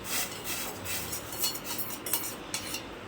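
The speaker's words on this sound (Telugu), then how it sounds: "ఇలా మిక్స్ చేసిన తర్వాత మనము దీన్ని ఇలా కలుపుతూ ఉండాలి, కింద అడుగంటకుండా." Steady stirring in a pot of warm water over low heat, a spoon scraping and clinking against the metal in quick irregular strokes, close and fairly quiet, with no talking.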